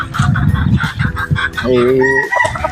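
Pumpkin hatch gamefowl chickens cluck in rapid bursts at close range, then a rooster lets out a loud crow that overlaps the clucking.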